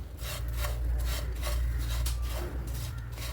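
Flattened rice (aval) dry-roasting in a pan for aval payasam, stirred in a steady rhythm of raspy scraping strokes, close and fairly loud over a low constant hum.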